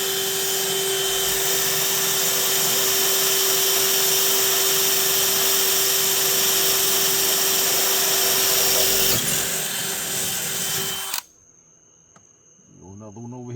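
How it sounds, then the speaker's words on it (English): A power drill drones steadily while drilling holes in a trailer floor, a long continuous whir lasting around eleven seconds before cutting off to near silence. "switch over to the other side and drill these two holes"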